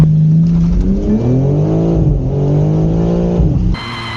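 A large RC car accelerates hard during a race, its electric motor whining loudly and close with rising and falling pitch for about four seconds before cutting off.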